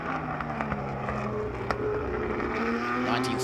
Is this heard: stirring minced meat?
no